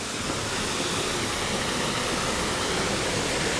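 Duden waterfall in Antalya roars as a steady, dense wash of falling water, loud and close, with no pause and no voices heard.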